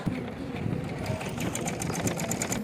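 Sewing machine running steadily while stitching folded buckram along a Panjabi dress neckline, a continuous close whirring with rapid needle ticks throughout.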